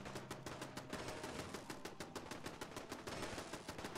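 Rapid automatic gunfire in Fallout 4, a fast, regular burst of sharp shots, about eight per second, continuing for several seconds at moderate distance with no talk.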